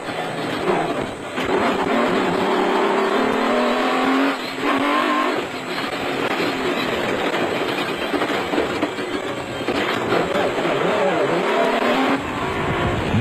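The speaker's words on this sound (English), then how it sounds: "Relying on the Nissan's blindingly fast acceleration, De Villiers immediately opened up a gap on the Ford" Nissan off-road race vehicle at the 2002 Tarkastad 400 off-road race in South Africa, accelerating hard with a loud, sustained engine roar and rattling that runs unbroken throughout.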